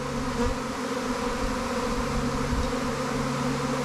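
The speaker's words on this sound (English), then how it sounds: "I'm really surprised that they're swarming this early" A swarm of honey bees fills the air with a dense, steady buzzing drone, close and continuous, with no voices over it.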